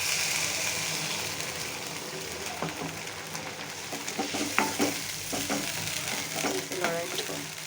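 Potatoes fry in a pan under a continuous soft sizzle, with repeated scraping and clinking strokes of a spatula stirring them close by, growing busier toward the end.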